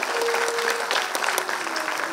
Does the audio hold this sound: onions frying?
no